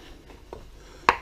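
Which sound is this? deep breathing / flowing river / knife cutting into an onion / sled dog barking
knife cutting into an onion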